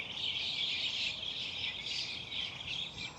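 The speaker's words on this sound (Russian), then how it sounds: "И вы слышите, как поют птицы." Birds chirp and sing in a tall tree outdoors in Almaty, a steady, dense high twittering that carries on throughout at moderate level, with no talking.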